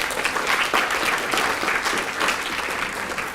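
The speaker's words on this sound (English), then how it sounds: "Round of applause for Sen." Applause from a course audience in a lecture hall for a quiz winner: steady, dense clapping from many hands that holds at an even level through the whole stretch, with no talk over it.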